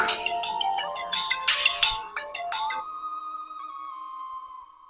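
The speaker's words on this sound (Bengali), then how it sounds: "আবার ফোন দেয় কেরা?" A mobile phone ringtone rings out in a Bangladeshi home setting, a bright repeating melodic pattern of a few notes that ends in a sustained tone, heard clearly and alone.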